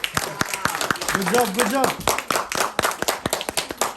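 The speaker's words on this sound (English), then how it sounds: "Clap hands." Children at a question-and-answer session in a temple clap their hands in quick, sharp, fairly close claps, while an adult voice offers praise over the clapping.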